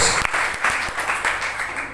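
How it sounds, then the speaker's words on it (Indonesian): Brief, dense applause from a congregation at a Christmas church service, a continuous crackling clatter of many hands heard fairly close for about two seconds. "Tepuk tangan terbaik buat Tuhan Yesus Kristus."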